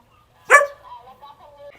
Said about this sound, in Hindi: एक कुत्ते ने आवाज़ लगाई तो इसके साथ साथ 2-3 कुत्ते और आ गए